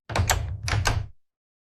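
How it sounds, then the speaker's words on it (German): A door swings shut with a soft thud and a short low rumble, heard close and alone in two quick bursts within about a second, then silence. "Ich schließe die Tür."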